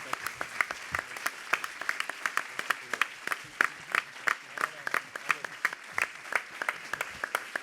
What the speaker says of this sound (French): d'applaudir très chaleureusement Robert Papin